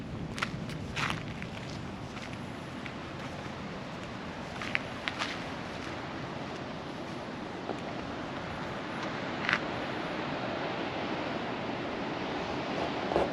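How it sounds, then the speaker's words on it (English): Water rushes steadily through an irrigation channel beside a viewing platform in Australia, a constant broadband wash with a few faint footsteps and light knocks scattered over it. "you can see how much water they've got running through it"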